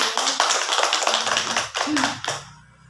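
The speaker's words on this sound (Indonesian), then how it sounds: "tepuk tangan untuk kita semua" Scattered hand claps from a small group in an Indonesian training session, a few sharp taps over a busy, uneven patter that fades out near the end, with brief voice-like tones mixed in.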